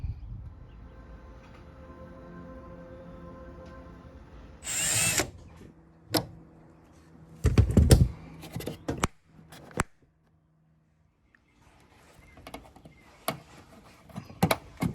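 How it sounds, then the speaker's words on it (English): A power drill drives two screws back in after a Hyundai Sonata reverse light bulb replacement, with one sharp whir followed by several short close bursts and scattered clicks, separated by pauses, without talk. "Now you can put the two screws back on here"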